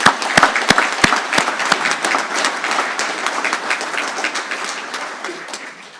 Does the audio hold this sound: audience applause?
yes